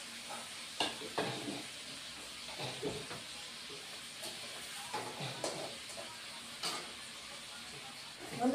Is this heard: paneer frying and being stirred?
yes